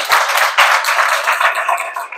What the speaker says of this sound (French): Encore une fois, applaudissez pour GAT aussi.